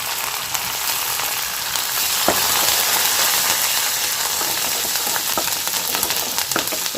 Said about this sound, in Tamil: இதில் கருவேப்பிலையும் சேர்த்து நல்லா வதக்கிக்கிறலாம்.